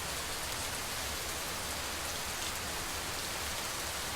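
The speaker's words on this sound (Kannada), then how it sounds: "ರಾತ್ರಿ ಆದ್ರೆ ಸಾಕು, ವರ್ಷಧಾರೆ ಅಬ್ಬರಿಸತ್ತೆ." Heavy rain pours steadily at night during a cyclone, a dense, even hiss of drops on surfaces with no pauses and no voices.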